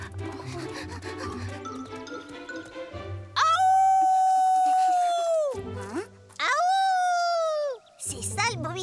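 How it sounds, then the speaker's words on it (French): A wild dog in a cartoon howls in two long, loud, wavering howls separated by a brief pause. Voices and music play underneath just before the howling starts. "pourquoi le chien sauvage continue à hurler?"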